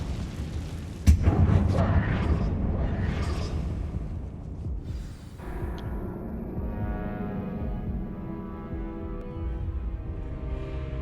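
A Confringo blasting spell goes off inside an abandoned mine in Hogwarts Legacy: a sharp burst, then a roaring whooshing blast that fades, followed by a rumbling low tail with some lingering clatter.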